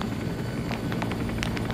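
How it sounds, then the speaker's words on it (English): A helicopter in a video game drones with a steady rotor throb and engine hum, continuous and fairly loud, with faint higher clicks and chirps over it. "There's choppers inbound."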